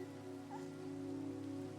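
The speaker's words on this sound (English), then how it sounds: "it's raining." Steady, soft rain falls in the Minecraft video game, a faint even hiss with a low droning hum beneath it and no voices.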